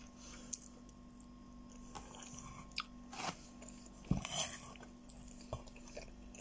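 Close, wet chewing and biting of food during a late-night mukbang eating session, with soft crunches and a sharper bite now and then over a quiet room hum; no talking.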